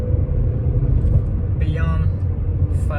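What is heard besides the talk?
Peugeot 406 naturally aspirated engine revving past 5,000 RPM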